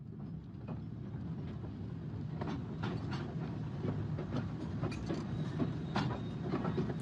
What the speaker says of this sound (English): First the train from London to Liverpool